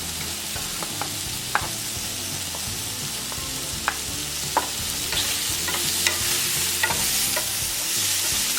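Garlic sizzles in a hot pan while being stirred, a steady frying hiss with scattered scraping clicks from the utensil, close and fairly quiet with no talking.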